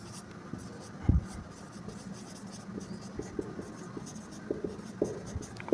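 A pen writes out a calculus derivative on paper, giving soft scratching strokes with a few sharper taps and short pauses in a quiet room.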